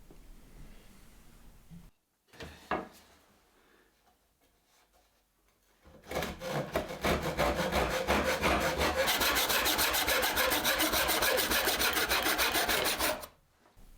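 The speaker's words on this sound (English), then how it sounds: "So I get the bench hook, put into the vise and get it cut to length." A hand saw cuts a length of ash wood held in a vise against a bench hook. A few short scrapes are followed by a long run of fast, even rasping strokes, close and loud.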